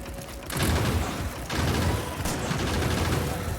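Machine gun turrets in Factorio rattle off sustained bursts of rapid fire, a dense continuous clatter that cuts in after a brief lull and keeps going loud to the end.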